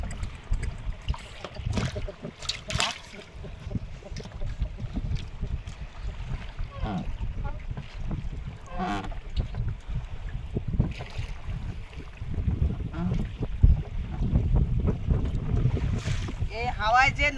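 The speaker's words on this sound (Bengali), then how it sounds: "এই হাওয়ায় যে নৌকা বয় তার কিন্তু খুব কষ্ট" A fishing boat on a Sundarban river at spring tide, battered by strong wind; heavy gusting wind noise roars steadily with water and hull thumps underneath, close and loud throughout.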